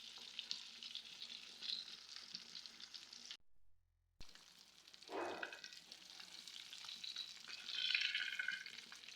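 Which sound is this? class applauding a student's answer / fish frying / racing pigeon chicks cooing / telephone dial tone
fish frying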